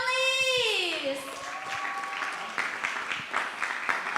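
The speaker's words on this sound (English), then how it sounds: "give a big applause for the top 10 finalists" An audience at a hackathon event applauds the top 10 finalists, starting after a fading sung or tonal sound, with scattered clapping that stays moderate and somewhat thin.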